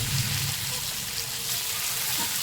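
Tandoori chicken frying in a pan, giving a steady soft sizzle and crackle that holds evenly throughout at a low level, with no talking over it.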